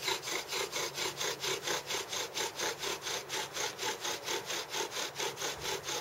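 A bow drill turns a sassafras spindle into a sumac board with steady, rhythmic back-and-forth rasping strokes, about four a second, close and even with no talking.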